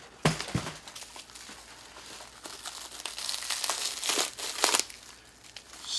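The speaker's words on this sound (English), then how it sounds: "So, they have truly bound this up in the plastic wrap. So this will take a moment to unwrap." Plastic wrap and paper packing are peeled off a sword shipped from Darksword Armory, making close, loud crinkling and crackling with sharp tearing bursts scattered throughout and no talking.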